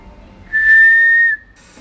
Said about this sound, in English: Oops, I whistled too late.